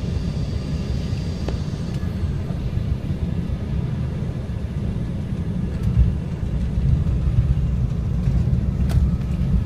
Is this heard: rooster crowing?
no